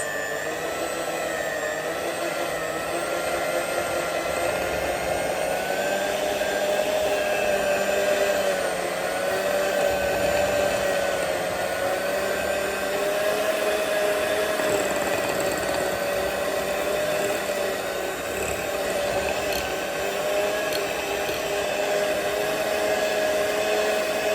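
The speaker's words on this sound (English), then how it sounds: "I will just try and whisk this up." A steady, continuous electric whirring hum from a small motorised whisk whipping thick, solid face cream runs unbroken throughout, fairly loud and close, with no voices.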